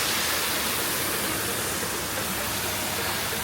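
Waterfall at Wat Phra That Pha Son Kaeo in Khao Kho, Phetchabun, a steady, loud, broadband rush of falling water filling the whole stretch with no break.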